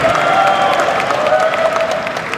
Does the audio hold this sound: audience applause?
yes